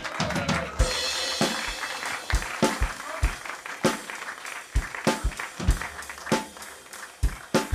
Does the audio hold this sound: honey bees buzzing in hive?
no